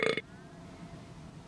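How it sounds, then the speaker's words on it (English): A monster character in a comedy web show lets out a short, loud burp right at the start, followed by quiet room tone. "Louis the Monster burped on us"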